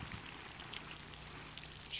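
Garden plants being watered with chlorinated town tap water, a soft continuous splashing and pattering of water on leaves and soil, faint and steady throughout.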